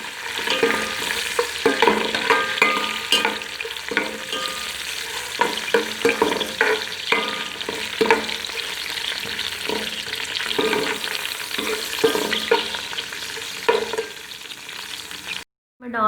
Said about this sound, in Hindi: ड्राई फ्रूट्स डालने के बाद अब हम इन्हें भी हल्का सा रोस्ट कर लेंगे।